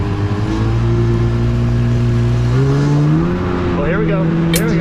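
A personal watercraft jet ski engine drones loudly and close at low throttle on open water, its pitch nudging upward partway through, with splashing toward the end.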